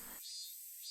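Cicadas drone in the Higurashi video game, a steady high-pitched insect hum that holds evenly across a short stretch with no other sound.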